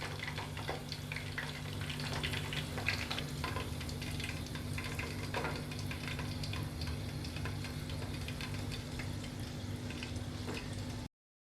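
Butterfly chicken with potatoes frying in oil over a low flame, a soft continuous sizzle and bubbling with a steady hum beneath, close and even throughout.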